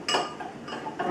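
A spoon stirs a drink in a glass, giving a short run of light clinks and scraping taps, close and fairly loud, with no talk over it.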